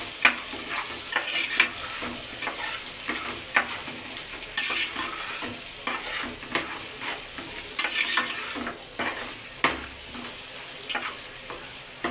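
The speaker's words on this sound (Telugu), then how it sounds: "ఒక ఐదు నిమిషాలు మాత్రమే ఫ్రై అవ్వనది" Chicken fried rice fries and is stirred in a pan, a steady sizzle broken by rhythmic scraping and tossing strokes throughout.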